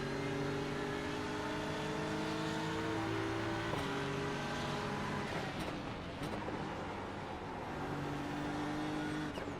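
Multiple race car engines drone and rev at Petit Le Mans in iRacing, a Porsche following close behind; loud, sustained layered engine tones with shifting pitch and brief gear changes, no talking.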